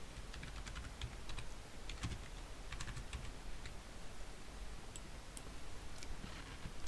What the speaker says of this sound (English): And I just type them in now.